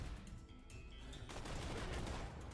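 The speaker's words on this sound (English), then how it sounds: "This is the regular cannon." Cannon fire in the video game Roguelands, a dense burst of loud booming shots that thickens into continuous rapid blasts, with no voices over it.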